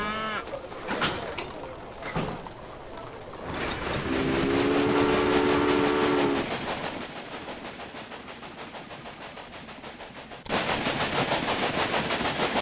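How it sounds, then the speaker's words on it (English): A steam-era train running in the Railway Empire railroad simulation game, a steady rumbling chug with a sustained horn blast in the middle, then a sudden louder burst of rolling noise near the end. "Your train is now traveling between Omaha and Norfolk."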